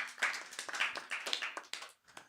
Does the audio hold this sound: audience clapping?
yes